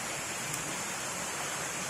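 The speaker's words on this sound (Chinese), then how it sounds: "哗啦啦的流水" A mountain stream tumbles over rocks in a green valley along a hiking trail near Jiaoxi, Taiwan, giving a steady, even rushing wash of water with no voices.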